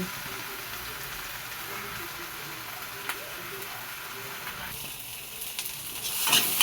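Mashed flat beans are stirred in a hot pan with fried onions, giving a steady soft sizzle and scraping at close range, with a brief clatter near the end and a voice speaking over it.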